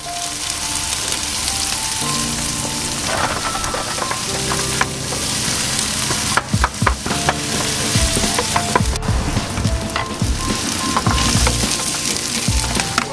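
Chili with its seeds sizzles and fries in a hot pan alongside chopped garlic, a steady crackling hiss with stirring scrapes and clatters, close and loud with no talking.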